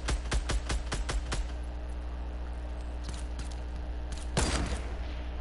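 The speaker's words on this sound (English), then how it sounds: "I shot him, I got him. Got him with a silent pistol." Rapid bursts of silenced pistol fire in Fortnite, about seven sharp clipped shots in a quick rhythm at the start, then two scattered pops and a heavier blast near the end over a steady game hum.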